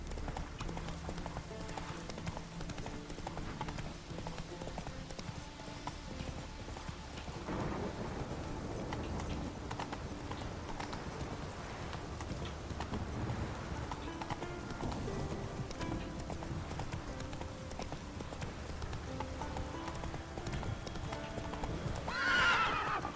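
Roach the horse in The Witcher 3: Wild Hunt trots along with steady, rhythmic hoof clip-clops and breaks into a whinny near the end, all fairly quiet.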